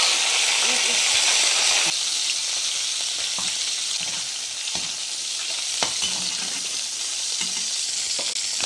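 A generous amount of garlic frying in oil for a basil pesto risotto, a loud steady sizzle that drops slightly after a couple of seconds, with scattered stirring taps and scrapes and a voice talking faintly underneath.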